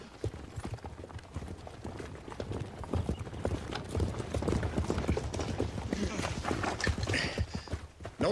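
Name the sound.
horses hooves clip-clopping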